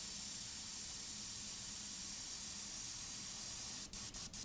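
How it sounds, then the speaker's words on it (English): Steady, close hiss of an airbrush spraying out leftover paint, continuous throughout, ending with three quick sputtering bursts as the paint runs dry. "I'm going to spray all of that material out till it's dry."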